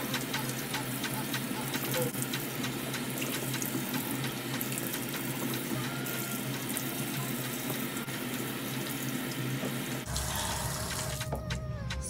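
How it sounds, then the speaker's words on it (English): Steady, loud rush of tap water running into a bathroom sink during face washing, continuous and close, with the tone of the flow shifting near the end. "Wash my face and all that stuff."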